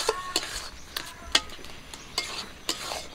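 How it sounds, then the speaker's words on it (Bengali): Taro flowers and small fish frying in a pan while a spatula stirs, with regular scraping strokes about every half second over a soft steady sizzle, close and without talk. "কচুর ফুলগুলো আবারও কিছুক্ষণ একটু ভেজে নেব।"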